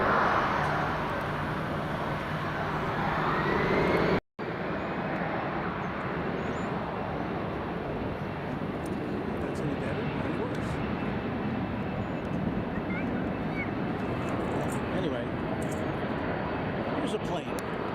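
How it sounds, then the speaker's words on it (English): A plane at DFW International Airport rumbles steadily as a broad, continuous roar across the whole stretch, broken by a brief dropout, with talk faintly over it. "A plane."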